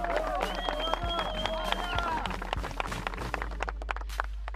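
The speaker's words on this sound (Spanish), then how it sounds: "un aplauso a la barra" Football supporters' group cheering, with voices chanting in sustained tones early on and sharp scattered claps continuing afterwards, a loud crowd mass at moderate distance.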